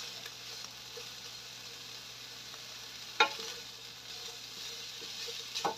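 Meat frying in a pan for pancit bato, stirred until it renders its own fat, giving a soft steady sizzle with a sharp scrape of the utensil and a few light clinks.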